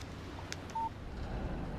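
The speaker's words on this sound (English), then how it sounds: "Text message from Barry." A short electronic phone alert tone for an incoming text message in the Alan Wake video game, a single brief beep over quiet ambient background hiss.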